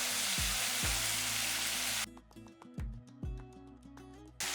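Pieces of liver go into a pan of softened, fried onions for a millet liver fry, and a steady broadband sizzle follows. Several sharp drops and clatters land over the sizzle as the pieces hit the pan, and a sustained music-like tone runs underneath.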